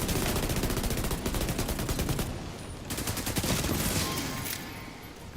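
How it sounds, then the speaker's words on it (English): Submachine gun fire in The Division 2, loud rapid automatic bursts rattling almost continuously with short gaps, close up and with no talk over it. "SMG at the end"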